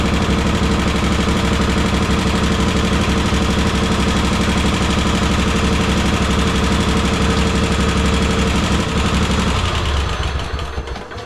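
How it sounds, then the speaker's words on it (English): An old, beat-up tractor engine runs steadily at close range, a loud, dense, rough chugging with a rapid rhythmic knocking that could be rod knock, then it cuts off near the end. "does this thing sound like it has rod knock?"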